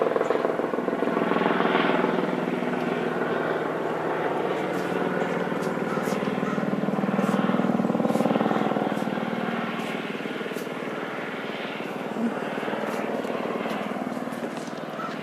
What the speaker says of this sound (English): There's a black helicopter doing that.